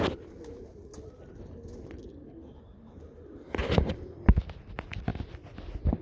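Janssen racing pigeons in a stock loft give soft, low cooing under a quiet background, followed by scattered rustles and thumps of movement growing louder toward the end.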